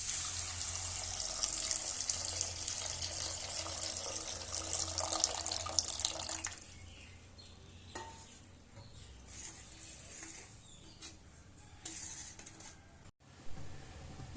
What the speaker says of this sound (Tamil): இப்போ நாம புளி தண்ணிய ஆட் பண்ணிக்கலாம்.